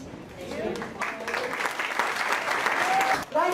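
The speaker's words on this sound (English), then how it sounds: "Let's give our panelists another big round of applause" A luncheon audience applauds panelists at a hospitality and tourism event. The clapping is dense and sustained for several seconds at a steady loudness from a sizable crowd, and it thins out abruptly at the end.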